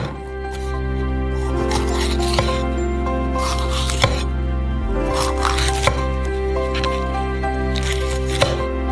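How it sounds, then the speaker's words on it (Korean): A knife cuts a green bell pepper into small pieces on a cutting board, giving a handful of irregular, crisp chopping knocks over a low, steady background hum. "작은 조각으로 썰어주세요."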